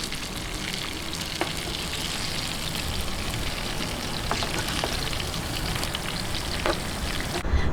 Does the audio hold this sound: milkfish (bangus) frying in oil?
yes